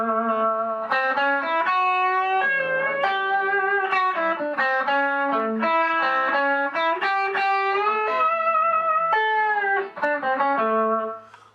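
Electric guitar with distortion imitates a falsetto blues voice in a sustained, crying melodic phrase of bent and sliding notes, loud and continuous throughout, with no talk.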